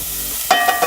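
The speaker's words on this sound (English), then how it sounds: "We are going to add some bacon. Hear that sizzle?" Diced bacon crackles and sizzles in a hot pan on high heat, a loud continuous hiss with a few brief stirring clinks near the end.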